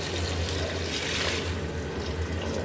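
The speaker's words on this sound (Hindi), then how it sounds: "अब इसमें हम 1 जग पानी का डालेंगे।" A jug of water is poured into a pot of chana masala, giving a continuous, close splashing and trickling stream that holds steady from start to finish with no voices.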